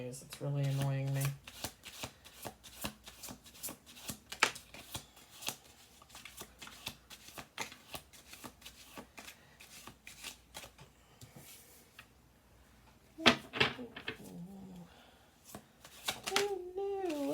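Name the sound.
shuffling tarot cards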